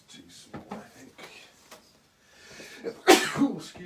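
A single loud, sharp sneeze bursts out at close range amid quiet indoor speech, which continues briefly afterward.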